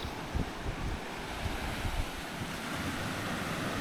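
Surf washing onto a quiet, empty beach at India's only drive-in beach, a steady broad rush of waves with wind buffeting the microphone and no voices.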